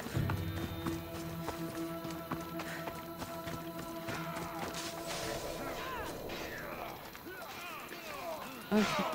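Horse hooves clip-clop at a running pace in Assassin's Creed Odyssey, the rhythmic hoofbeats mixed with game music tones and faint voices, with a louder knock near the end.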